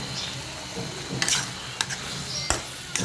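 Vegetables sizzle in a frying pan as a utensil stirs them, giving a steady hiss with a few sharp scraping clicks from the spatula against the pan.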